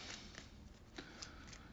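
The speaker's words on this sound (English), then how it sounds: "So I'll just give them another shuffle." Playing cards being shuffled during a tabletop board game, a quiet run of soft riffling flutters and light snaps lasting under two seconds, with no voices.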